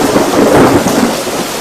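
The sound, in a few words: heavy rain with thunder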